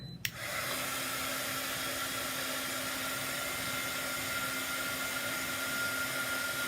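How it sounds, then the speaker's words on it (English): A hair dryer blows steadily on a chalk paste gift tag. It starts with a click, then gives a constant loud whirring hum that holds at one pitch with no talk. "We're going to blow dry that."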